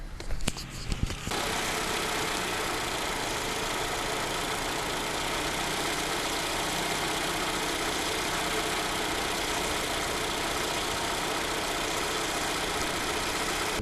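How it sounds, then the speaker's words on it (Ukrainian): A Toyota Camry engine idles loudly and steadily at close range, a constant droning rumble after a brief mechanical clatter at the start. "Двигун у нас працює достатньо гучно"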